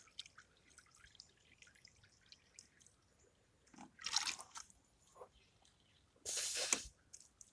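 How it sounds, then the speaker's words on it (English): Water poured from a watering can onto a brick on an allotment plot, heard as two short splashing bursts of spray and trickle against quiet outdoor background, the second louder and longer. "just top watering onto the brick so that I don't disturb anything"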